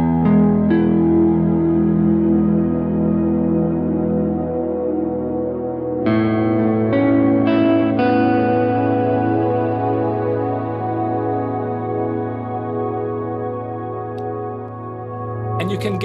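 An electric guitar played through a Kemper Profiler with spacey reverb rings out in sustained, layered chords. The notes shift at a few points and trail off in long washy tails, and no one talks over it.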